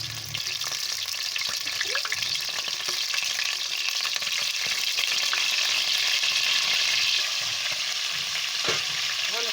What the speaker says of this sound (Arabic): غادي نضيف الدجاج هنا باش يتقلى في هذا الزيت هذا.